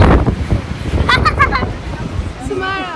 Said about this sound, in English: It's a little windy and cold